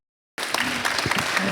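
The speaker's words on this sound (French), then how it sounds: "On peut les applaudir" Audience applause bursts in after a short silence at a panel talk on tackling greenwashing, a moderate round of clapping from the room that continues steadily to the end.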